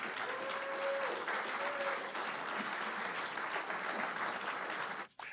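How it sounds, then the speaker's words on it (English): An audience at a televised hearing or event claps in a sustained round of applause, steady and moderately distant, fading out at the end. "have you encourage him with a round of applause"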